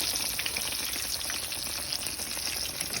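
Dungeness crab from Pacifica sizzling and frying in a pan, a steady close hiss with crackling spatter throughout, no talk.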